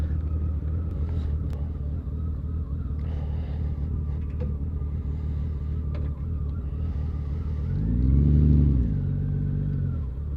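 Honda Valkyrie motorcycle idling with a steady low engine rumble close by, then a brief rise in revs as it pulls around in a turn before settling again.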